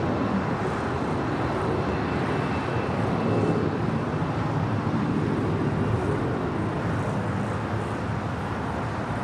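An airliner at LAX takes off from the north side, a broad, steady engine roar that stays loud and rumbling throughout, with no talk.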